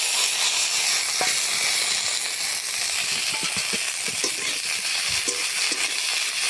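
Drumstick flowers are tipped into potatoes already frying in hot oil, giving a loud, steady, close sizzle with scattered crackles and stirring clicks throughout.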